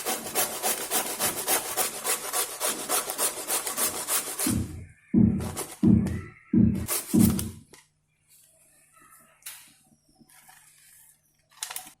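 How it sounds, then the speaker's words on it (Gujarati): Rapid, close rasping strokes of potato and bottle gourd scraped against a hand grater, a continuous run of quick passes, then several slower, heavier separate strokes, fading to quiet handling noises. "એ જ રીતે આપણે દૂધી પણ છીણી લઈએ।"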